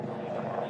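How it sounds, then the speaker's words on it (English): A steady low rumbling drone, like a helicopter overhead, fills the short clip with a constant broadband roar and no clear breaks. "that noise you can hear is still the helicopter that's flying above"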